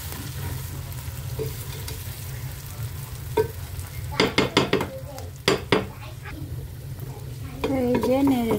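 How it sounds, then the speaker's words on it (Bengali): Bitter gourd with lentils stir-fried in a pan, a steady low sizzle under a burst of sharp metal spatula scrapes and clinks, close by, with a faint voice-like sound near the end. "এভাবে অল্প আছে নেড়ে চেড়ে এরকম আস্তে আস্তে করে ভেজে নিতে হবে"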